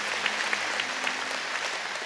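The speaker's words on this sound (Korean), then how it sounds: "여러분 크게 박수로 환영하시죠." A church congregation claps in welcome during a Sunday service marking the church's 70th anniversary, a steady, even round of applause from the whole room, moderately distant and unbroken for its short length.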